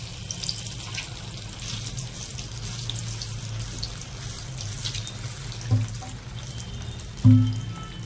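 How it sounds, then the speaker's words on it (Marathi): Veg lollipops made of idli batter and potato frying in hot oil, a steady, soft sizzling hiss that runs continuously, with a couple of brief louder clatters near the end. "हे बघा अशा प्रकारे ठेवून घ्यायचं, ब्राऊन होईपर्यंत तळून घ्यायचे।"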